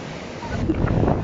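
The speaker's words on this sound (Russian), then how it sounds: "Очень сильные волны на море сегодня." Steady roar of wind and strong surging sea waves at Kadınlar Denizi beach in Kuşadası, a broad continuous rush that swells slightly in the second half.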